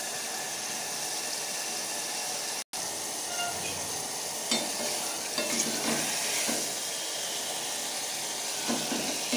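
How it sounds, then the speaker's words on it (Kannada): Tomatoes frying in oil in a pan for tomato sambar, a steady close sizzle with occasional scraping stirs and a brief dropout near the start, no talking. "ಟೊಮೆಟೊ ಎಲ್ಲ ಫ್ರೈ ಆಗಲಿ ಎಣ್ಣೆಯಲ್ಲಿ ಚೆನ್ನಾಗಿ"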